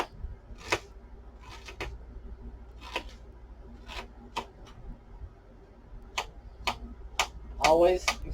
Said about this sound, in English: So just be careful. Dice it up.